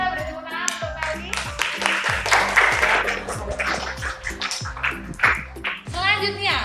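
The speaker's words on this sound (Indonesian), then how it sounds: "kita beri tepuk tangan untuk Melki" Clapping for a student presenter named Melki in a classroom, an uneven run of hand claps over a steady rhythmic musical background, with speaking voices toward the end.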